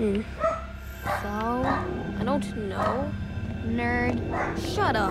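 A pet dog barks and yips repeatedly in the background, sharp bursts every second or so, while people talk over it in the foreground.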